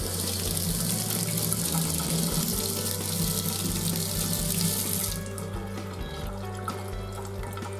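Tap water runs steadily and loudly, rinsing makeup test samples, with the splashing changing tone partway through as the flow shifts.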